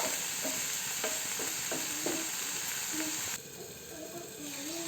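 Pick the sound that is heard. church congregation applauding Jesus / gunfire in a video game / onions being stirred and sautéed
onions being stirred and sautéed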